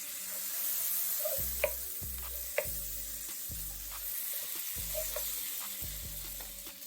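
Four tablespoons of butter melt in a pot on the stove, giving a soft, continuous sizzle close by, broken by a series of low, regular knocks and a couple of sharp clicks, with no voices.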